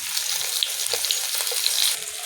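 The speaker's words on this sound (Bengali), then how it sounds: "ডিমগুলো ভাজা হয়ে গেছে, আর তুলে নিচ্ছি।" Eggs fry in a hot pan for an egg curry, a brief, close, crackling sizzle with scattered pops and spits.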